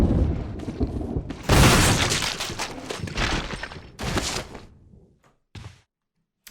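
Heavy booming gunshots ring out in Resident Evil 1 HD, with a loud blast followed by echoing rumble and two more shots, then a few faint, sparse hits fading out.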